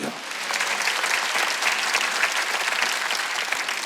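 A church congregation at a Korean Wednesday worship service breaks into sustained applause, dense and even clapping throughout with no voices standing out.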